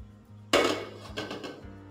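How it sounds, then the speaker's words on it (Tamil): A kadai pan set down on a stove with a single sharp metallic clank, followed by a few lighter rattles as it settles, close and clear over a low steady hum. "இதில் ஒரு கடாயை நம்ம வைக்கலாம்."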